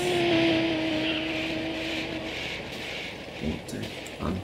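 A helicopter in GTA San Andreas hums steadily with a faint whine, then fades slightly as light thumps and scuffs come through.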